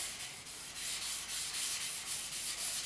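A steel scraper blade is rubbed back and forth on a 1000 grit sharpening stone, giving a steady, close, hissing scrape with faint regular stroke pulses and no talking.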